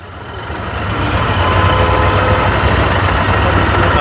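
Motorbike engines idling before a group ride departs toward Solanpada Dam, a steady close low rumble that swells slightly within the first second and then holds.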